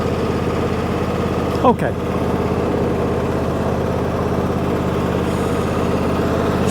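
A choke-started engine idling on tick over gives a steady, loud, close rumble throughout, with a brief spoken word early on.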